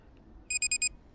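A dinghy depth sounder gives its shallow-water alarm, four quick, clear electronic beeps in a steady rhythm over a low background hum, with no talk.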